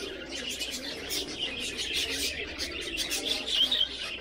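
Pigeons coo and chirp at a bird shop that also sells medicines, a busy chorus of overlapping calls with brief faint voices in the background.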